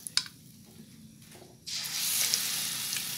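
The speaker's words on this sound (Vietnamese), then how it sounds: "Mình chiên 2 lần nha các bạn, mình chiên 2 lần cái phần hủ qua" Sliced bitter melon goes into hot oil for a second frying until crisp; after a couple of soft clicks, a loud, steady sizzle suddenly starts and keeps going at close range.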